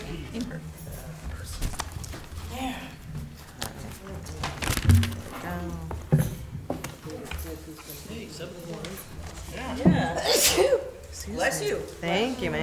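Someone sneezes during a planning board meeting, a sharp burst amid ongoing talk and room noise, with a second loud outburst following a few seconds later.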